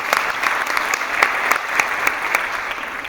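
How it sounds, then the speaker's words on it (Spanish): An audience applauds at a logistics conference event, a dense, steady wash of many hands clapping close by at full strength, with scattered sharper claps standing out throughout. "Les pido un fuerte aplauso, por favor."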